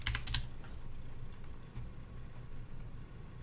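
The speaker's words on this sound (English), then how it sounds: "we could type in Hunter Biden on Fox News and see if they're actually talking about it" A few quick keystrokes on a computer keyboard as a search is typed into a news site, a brief cluster at the start followed by a low steady hum, close and fairly faint.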